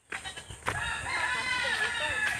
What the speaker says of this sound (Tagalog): Ano na? Manok. Ay, manok.